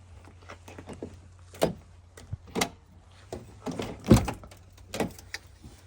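Door of a Buick Grand National opening, heard as a few separate clunks and latch clicks at close range, with no talk.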